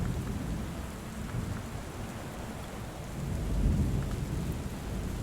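A thunderstorm from a memory storm in the Book of Hours video game: steady heavy rain hiss with a low rumble of thunder swelling midway, no voices.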